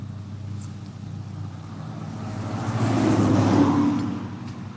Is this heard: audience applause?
no